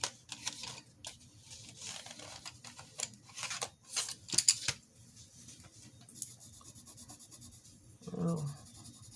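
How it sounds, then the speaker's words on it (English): Crazy Art neon colored pencils drawn across paper in a series of soft, scratchy strokes that come in uneven bursts, quiet and close, with a brief low voice near the end. "Let's try the Crazy Art neon colored pencils."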